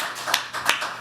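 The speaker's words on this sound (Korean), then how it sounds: "자동으로 박수가 나오네요" Hand clapping from a conference audience at a panel talk on ESG, a few quick claps with two sharper peaks, close and brief with no talking.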